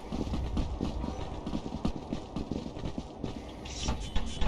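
Hoofbeats in the video game Lethal Company, a steady run of clip-clop steps fairly close and loud over a busy, noisy background with no talk.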